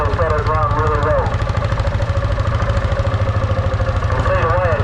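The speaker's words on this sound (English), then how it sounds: "That's that big single cylinder piston going backwards and forwards." A big single-cylinder vintage tractor engine runs close by at a tractor pull practice day, its piston beating out a slow, regular low-pitched chuff, with someone speaking over the steady rhythm.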